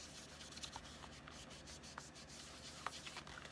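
A magic eraser scrubbed by hand over a handmade paper card, a soft, steady rubbing rasp at low volume with a few small taps and scuffs along the way.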